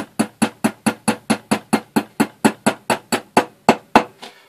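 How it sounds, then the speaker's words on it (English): A small hammer strikes a metal drill bit in a fast, even rhythm, gently ramming it through, about fifteen sharp taps in a row, close up and fairly loud, with no speech. "effectively ramming it through very gently with a small hammer"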